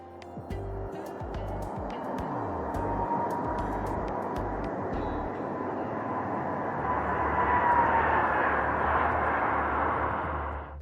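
A fixed-wing airplane on its landing approach into Paro International Airport in a narrow Himalayan valley, a continuous loud engine drone that swells slightly toward the end, with no talk.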